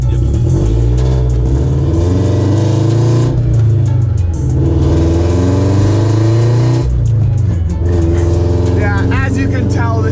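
A car engine revs hard and loud while driving, its pitch repeatedly climbing and dropping as the throttle is pushed and eased, close and dominant from start to finish.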